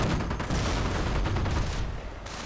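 Dense sniper and rifle fire from a WWII-style real-time strategy battle pits snipers against veteran Grenadier squads, with overlapping cracks and rattling volleys that continue without a break for a couple of seconds.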